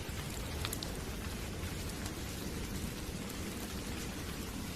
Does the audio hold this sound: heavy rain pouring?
yes